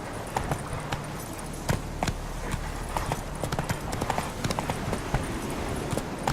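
A horse gallops in The Witcher 3: Wild Hunt video game, a rapid, steady run of close hoofbeats that continues throughout.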